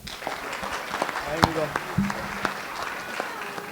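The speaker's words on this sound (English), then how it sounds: "So let's go all give a round of applause for him." Wedding guests break into applause at a reception, the clapping loose and moderate while voices and chatter carry on over it.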